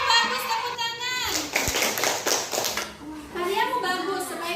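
A classroom of children claps to praise a classmate's work: a burst of dense, irregular hand clapping in the middle, with a teacher's and children's voices talking before and after.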